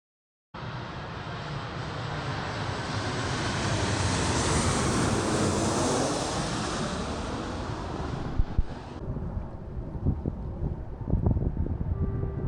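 Steady, loud wind rushing past the microphone while cycling west on Jeju island, a broad roar building over several seconds, then easing into gusty buffeting with sharp bumps and knocks.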